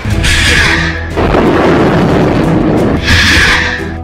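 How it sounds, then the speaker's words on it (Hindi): Hamas rockets launching produce very loud, roaring whooshes that swell, dip briefly, then surge again, harsh and close. "इसके बाद लॉन्च हुआ तीसरा रॉकेट।"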